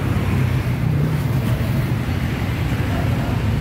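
A Dongfeng 10 hp diesel engine rigged to drive two pumps runs with a steady, dense, low rumble that stays at constant loudness throughout.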